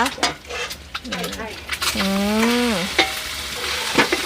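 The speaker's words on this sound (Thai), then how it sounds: "เส้นเนี่ยไปผัดอีกครั้งหนึ่งใช่ไหมคะ" Pad thai noodles stir-fried in a pan over a wood-fired stove, a steady sizzle with scraping and clinks from the utensil, heard close with a voice speaking over it.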